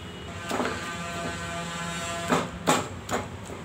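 A mixer grinder grinding dates hums with a steady motor whine, punctuated by a few knocking bursts as the fruit is churned in the jar.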